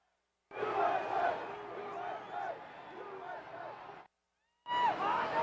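A large outdoor crowd at a Donald Trump rally on January 6, 2021 roars and chants in a broad, dense swell of many voices, dropping out briefly before surging again.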